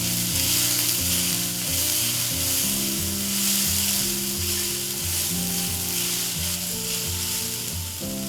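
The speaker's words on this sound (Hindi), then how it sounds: "अब इन सबको हम इकट्ठे अच्छे से पकाएंगे।" Beans and carrots fry in a hot steel pot for a vegetarian soup, a loud steady sizzle with stirring scrapes underneath and a tonal hum running through, with no talking.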